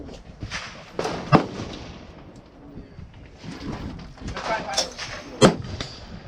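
HK MR762 rifle fired from a collapsed bipod on a table, with two sharp reports about four seconds apart, standing out over ongoing outdoor noise and chatter.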